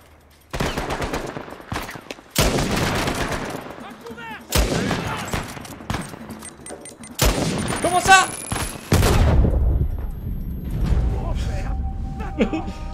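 Gunfire from the video game Uncharted 4: repeated loud bursts and single shots in clustered volleys across the clip, with a grenade-like blast near the end, mixed under someone talking over the action.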